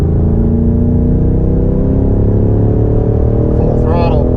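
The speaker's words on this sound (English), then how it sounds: "you can really start squeezing on that throttle as you come up onto the oval" A BMW M5 Competition accelerates hard on the Indianapolis road course, its engine a loud, steady, droning rumble throughout with rising pitch as the throttle opens, and a brief voice near the end.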